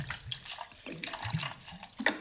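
Cold water splashes and trickles into a vessel while a lemon-and-mint drink with salt is made, a short, close pour with uneven bursts and no talking.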